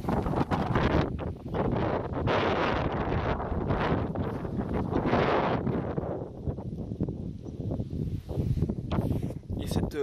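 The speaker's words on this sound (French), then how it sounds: "la rafale de vent" A strong gust of wind buffets a microphone outdoors in a garden, a loud broadband roar for several seconds that eases and then returns in bursts.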